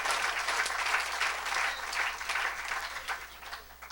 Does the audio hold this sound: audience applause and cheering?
yes